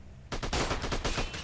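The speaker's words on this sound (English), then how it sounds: "They're shooting at me." Rapid bursts of gunfire in the Freeman Guerrilla Warfare video game erupt suddenly after a quiet start, loud and dense, with repeated shots in quick succession like automatic fire, no voices over it.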